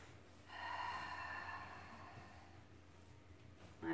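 A long, deep inhalation through the nose during a full-body fitness stretch, heard close and fairly faint, lasting a few seconds and followed by a short sharper breath at the end.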